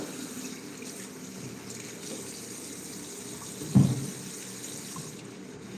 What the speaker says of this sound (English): now we're going to wash our board with hot water and soap